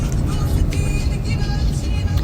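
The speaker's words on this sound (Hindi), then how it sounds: "आज भी इतना ट्रैफिक लगा हुआ है" Road traffic heard from inside a car stuck in heavy city traffic near Leisure Valley, a steady loud low rumble of engines and tyres with faint higher hiss throughout, no pauses.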